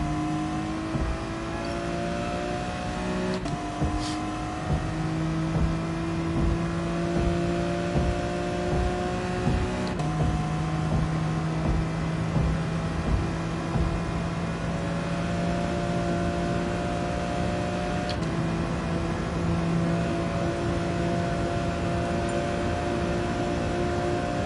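A car engine in a racing video game drones and revs through long steady stretches, its pitch shifting in steps as gears change, with no talk over it.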